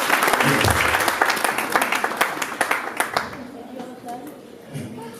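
A church congregation at a sermon claps loudly at first, then the applause thins into scattered claps and fades out.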